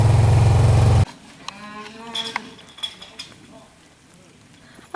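Big cattle on a farm after good rain lowing a few times, faint and somewhat distant, after a loud burst of handling noise at the start.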